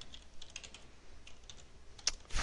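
A query is typed on a computer keyboard: a steady run of soft, close key clicks over low background hiss, with a couple of sharper strikes near the end and no voices.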